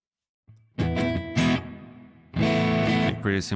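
A distorted electric guitar plays a few chords and notes with a thick overdriven tone, loud and close, with a brief pause between phrases.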